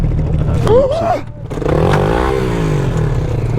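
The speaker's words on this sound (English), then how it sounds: "So back riding the YZF-R again." A Yamaha YZF-R motorcycle being ridden on a scenic road, its engine rising in pitch through a rev around the first second, then a steady drone under heavy rushing wind.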